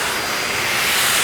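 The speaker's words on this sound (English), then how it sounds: "as we get the blower out" A powerful air blower roars steadily while drying a car body panel, a loud, continuous broadband rush that stays close, with no speech.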